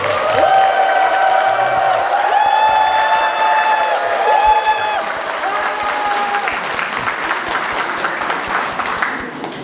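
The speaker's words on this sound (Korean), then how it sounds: "뜨거운 박수로 맞이해주시기 바랍니다" Loud applause from a lecture audience, dense clapping with some cheering and tonal voices over it, gradually thinning toward the end.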